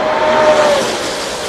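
NASCAR stock cars race down the Daytona backstretch in a tight drag race, a loud close engine roar that sweeps past with a brief high whine and then eases slightly.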